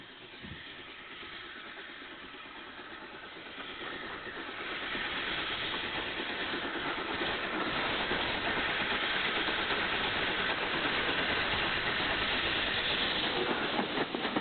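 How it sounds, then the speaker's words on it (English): Locomotive 69621 approaches Harmons Cross Station on the Swanage Railway, a steady rushing rumble of engine and rails that grows gradually louder over about fourteen seconds. "The engine is seen approaching Harmons Cross Station on the Swanage Railway."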